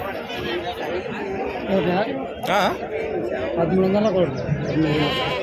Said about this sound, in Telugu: వట్టి మేకలేనా ఒట్టి మేకలే ఇవి